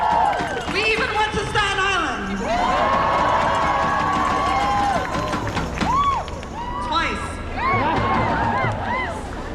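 A protest crowd at a Thanksgiving march for Palestine in New York cheers and shouts: overlapping, whooping voices swell loud and near, briefly dip, then rise again with rising and falling yells.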